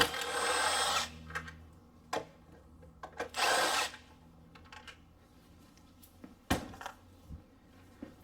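A power tool zips out 10mm bolts on a BMW N51/N52 engine cover in a workshop, with several short bursts of whirring and a few clicks and clinks of metal between them, close by.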